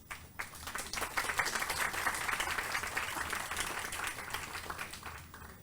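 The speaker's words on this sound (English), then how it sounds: "Let us give another round of applause for our Minister." Audience at a youth wildlife symposium applauding a minister, a round of clapping that starts with a few claps, builds quickly to a steady patter and then tapers slightly.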